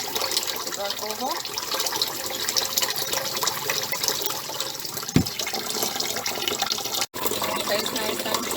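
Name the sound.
tap water running over rice being rinsed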